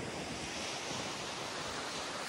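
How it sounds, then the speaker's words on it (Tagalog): Small waves wash steadily on the shore at Bolinao, Pangasinan around sunset, a continuous broadband surf hiss mixed with wind buffeting the microphone, fairly faint and with no voices. "May konting alon."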